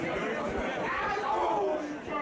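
Crowd chatter at a Beyond Wrestling New England Showcase event, a steady murmur of many voices filling the space at a moderate level without a break.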